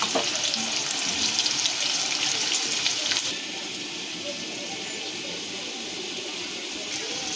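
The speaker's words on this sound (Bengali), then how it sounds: "আলুগুলোকে ভেজে নেব ভালো করে।" Potatoes frying in a pan, a steady broadband sizzle that is louder for the first few seconds and then settles into a quieter, even hiss.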